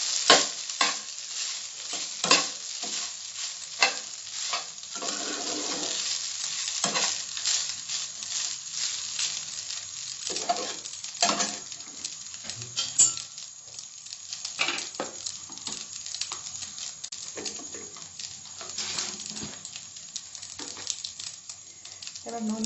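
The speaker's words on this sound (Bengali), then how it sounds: "ভাতটা ভালো করে মিশিয়ে নিচ্ছি" Rice being stirred and mixed with spices in a pan, with repeated close scraping and clinking of a spoon against metal in an irregular rhythm over a light frying sizzle, punctuated by sharper knocks.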